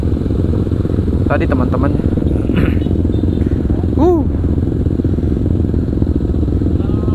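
A Kawasaki KLX 450 supermoto's 450cc engine drones steadily and loudly at a traffic light, a continuous rumble under a voice, with brief clatter partway through.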